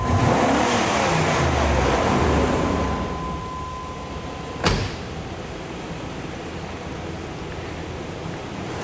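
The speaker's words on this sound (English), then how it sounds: "I'm going to just wrap the throttle real quick so you can see what happens here" A car engine is revved with the throttle opened quickly, giving a loud rising roar that then drops back to a steadier idle, with a sharp click partway through and no talking.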